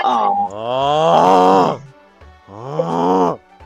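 A voice imitates snoring with two long, drawn-out groaning snores, the first running nearly two seconds and the second shorter after a brief pause, loud and close with no other sound around them.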